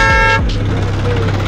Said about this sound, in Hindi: हमारे पीछे एक गाड़ी आई जो हमारे बिल्कुल पास आकर रुक गई और हॉर्न मारने लगी।